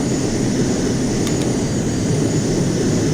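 JAS 39C Gripen jet engine in a flight simulator game while supercruising without afterburner, a constant loud roaring rush with no change in level and no talk.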